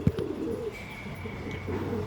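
A Punjabi male pigeon coos, a low murmuring call over a faint steady hum, with a sharp tap at the start and soft background noise throughout.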